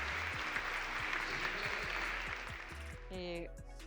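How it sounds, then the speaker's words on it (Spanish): A burst of loud applause from a crowd, dense clapping that holds steady before tapering off near the end. "Un fuerte aplauso para ellos."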